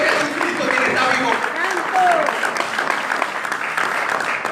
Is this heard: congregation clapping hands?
yes